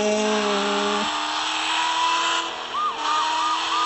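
Car engine hum and tire noise from a police driving video game, a steady synthetic motor drone with a pitch shift partway through and brief warbling squeals near the end, no talking.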